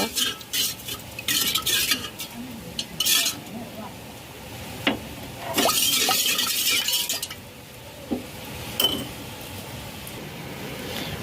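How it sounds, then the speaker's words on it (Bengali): A spoon stirs sugar into a coconut pudding mixture in a pot or bowl, with repeated scraping and clinking strokes in bursts, close and fairly loud, with short pauses between rounds. "আমি দিয়ে দিব 4 চা চামচ মতো চিনি। এগুলো একটু নেড়ে দিব।"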